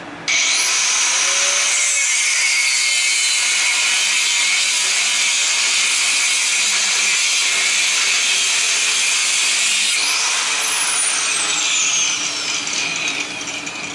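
A scrap frost-free water spigot is cut to free its brass, with a loud, steady, high-pitched cutting whine held for the whole stretch and only slight dips, close to the listener and without speech.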